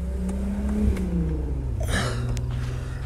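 A Ford Mustang drives past with a rising engine rumble, swelling briefly loud around the pass before fading, heard over a steady background hum with no talk.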